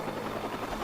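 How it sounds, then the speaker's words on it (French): A helicopter in the video game Watch Dogs throbs with a continuous dense rotor buzz, close and steady for under a second. "Attendez, il y a l'hélico."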